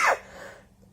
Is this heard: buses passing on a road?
no